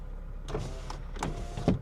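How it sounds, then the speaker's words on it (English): Power windows on an Acura RSX run briefly, a low electric motor whir with a couple of short surges and a soft thump as the glass stops. "My windows work perfect."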